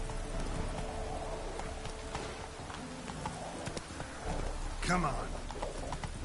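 Horse hooves galloping in The Witcher 3 on its hardest setting, a fairly quiet steady clip-clop running under game sounds, with someone talking briefly over it.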